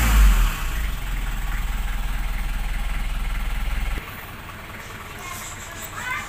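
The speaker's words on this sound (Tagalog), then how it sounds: "Ito RPM ko, inaano-ano ko lang yung RPM ko." The TD27 diesel engine of a Nissan Urvan idles, runs at a steady raised rev with a fast rhythmic throb, then drops back to a lower idle partway through. The sound is close and continuous, with no voices.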